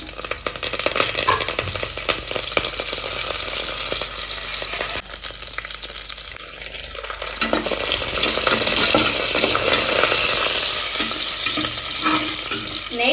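Ginger, cashews, dried chilies and curry leaves sauté in a hot pan with cumin, giving a steady, close sizzle with stirring scrapes that swells louder after a brief dip midway.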